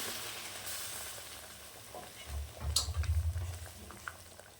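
Mutton pieces cooking in oil for curry crackle with a gentle sizzle, and a burst of louder bubbling and stirring comes near the middle before things settle back down.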